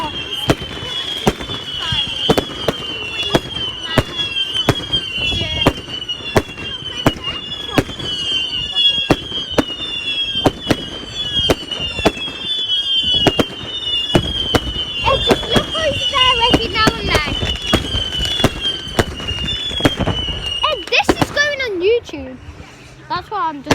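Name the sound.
bonfire night fireworks exploding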